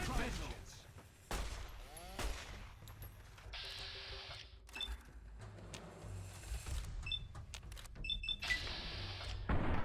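Gunfire in the video game Fallout: New Vegas: rapid bursts of shots crack out in several clusters across the stretch, loud and close, mixed with other sharp in-game effects.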